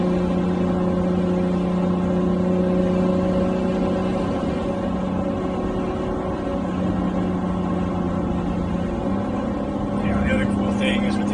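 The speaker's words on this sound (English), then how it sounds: "Bounces off the rev limiter a little bit." A 2019 Acura NSX engine drones steadily and loudly from inside the cabin, a sustained hum that holds its pitch for most of the stretch before stepping to a new tone near the end.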